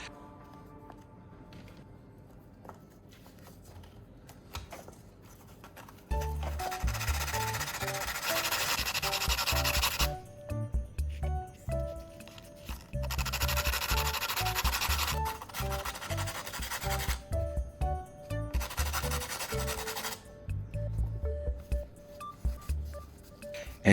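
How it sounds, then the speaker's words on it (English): A battery core ground into a fine tip, with long bursts of harsh, steady grinding that start and stop several times. Quieter stretches fall between the bursts. "I'll grind the battery core to shape it into a fine tip"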